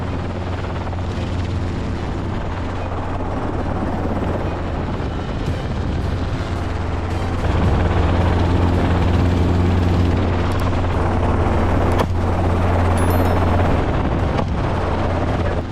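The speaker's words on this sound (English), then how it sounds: "some hunters have hired helicopters to hunt wild boars." Helicopter flying during a wild boar hunt, a loud steady rotor throb and turbine drone holding close and constant throughout, with no voices.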